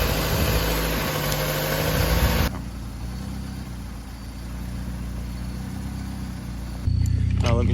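A car engine idles during an oil change, first loud and close with a broad roar, then dropping to a lower steady rumble before swelling again at the end.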